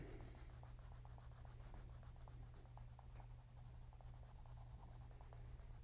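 Yellow watercolor pencil scribbling on paper in quick, steady scratchy strokes, close and faint, with no talking.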